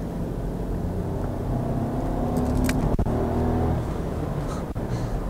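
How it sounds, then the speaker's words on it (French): A Volkswagen Polo 90 hp city car accelerates from inside the cabin, its engine note rising steadily in a continuous moderate drone with road noise, no talking over it. "On va accélérer un petit peu plus pour voir."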